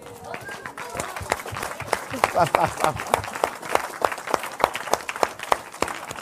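A church congregation claps along in a steady rhythm, a close and lively mix of many hands with voices calling out underneath, the beats growing sharper and more regular toward the end.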